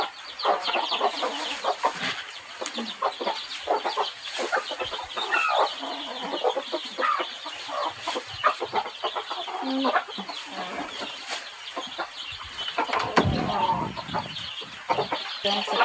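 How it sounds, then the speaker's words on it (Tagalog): Chickens cluck and fuss continuously at close range in a farmyard around feeding time, with dense overlapping bird calls throughout and a brief voice near the end. "itong mga manok"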